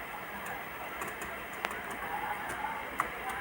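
Keys tapped on a computer keyboard while running code in RStudio, with a few sparse, light clicks and one sharper keystroke over steady faint room hiss, no talking.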